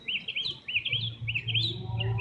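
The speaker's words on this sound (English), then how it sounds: "I love the birds. Listen to the birds." Small birds chirp in repeated quick bursts of high twittering during a neighborhood stroll, clear and fairly close, over a low background hum.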